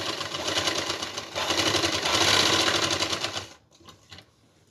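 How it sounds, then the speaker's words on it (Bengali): A sewing machine stitches falls onto a saree with a loud, continuous rapid clatter close by. After about three and a half seconds it slows and stops, leaving faint handling noise. "আমি দুদিকটা মেশিনেই সেলাই করব"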